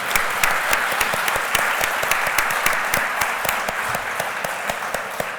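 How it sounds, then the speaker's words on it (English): An audience at a debate on AI tools applauds steadily, a dense, even patter of many hands clapping at moderate volume, with no talking. "could I have another round of applause for both of our debaters?"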